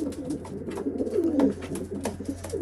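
Racing pigeons, a small team of widowhood males in a loft, coo in overlapping soft rolling calls, close and steady, with flutters and shuffling among the birds.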